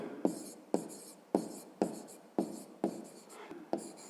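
A pen or pencil writes out a fifth-grade math exercise on paper, with about eight firm, close strokes landing at a steady half-second rhythm, each scratch fading before the next.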